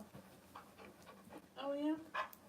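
A dog pants softly and rhythmically nearby during a yoga session, with a brief whine and faint human voice sounds mixed in.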